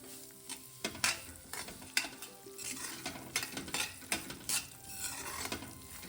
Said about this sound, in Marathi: तूप गरम झालंय, आता रवा टाकू आणि खमंग भाजायचा आपला रवा इथे